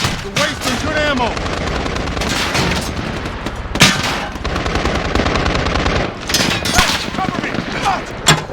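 Rapid automatic gunfire and bursts of shots crackle through a Modern Warfare campaign battle, loud and near, with voices shouting among the shooting.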